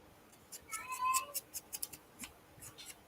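A cat gives a short, drawn meow nearby during a paper-crafting session for a mini folio, amid sharp snipping and tapping clicks, with no talking.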